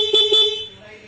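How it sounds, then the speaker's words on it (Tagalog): Stock horn on a Honda Winner X motorcycle, two short close beeps in quick succession followed by a fading tone. "tapos yung sa busina, diba, nag-install tayo ng Nitri, pero meron siyang stock of course"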